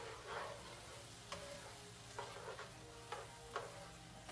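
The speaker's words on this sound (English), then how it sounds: "Stir this up." Butter, celery, onion and garlic stirred in a pot for chicken and dumpling soup, with a steady low sizzle and several light utensil scrapes spaced a second or so apart, no talking.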